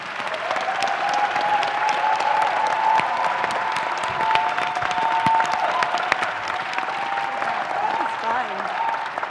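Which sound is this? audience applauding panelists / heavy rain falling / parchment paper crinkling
audience applauding panelists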